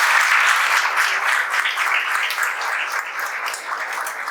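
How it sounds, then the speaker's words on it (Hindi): Audience applause for Nimeshwar Amrit, a rank-1 CGVYAPAM JE WRD topper, at a topper's talk event at Panigrahi's; dense, steady clapping from a roomful of people, loud at first and tapering slightly, with no talk over it. "तो निमेश्वर के लिए जोरदार तालियां।"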